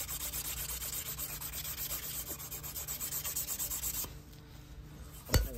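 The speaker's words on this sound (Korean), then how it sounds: "베어링 들어가는 자리를 이렇게 고음 사포로 문질러 줘야지만 베어링이 잘 들어갑니다." Fine sandpaper rubs back and forth over the bearing seat of an alternator, a close rhythmic scratchy sanding that stops near the end, followed by a brief knock.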